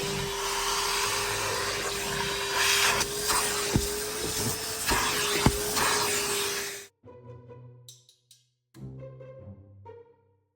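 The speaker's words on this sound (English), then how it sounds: "Already started giving the seat a quick wet vac." A loud wet vacuum whines steadily with a constant hum and occasional knocks while cleaning a Vauxhall Corsa's seat, then cuts off, leaving quiet clattering and handling sounds.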